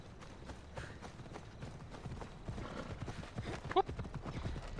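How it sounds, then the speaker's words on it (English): A horse galloping in the video game Assassin's Creed Odyssey, a fast, continuous run of hoofbeats heard faintly and at a steady pace, with a brief higher cry near the end. "Let's bring out our own hell horse."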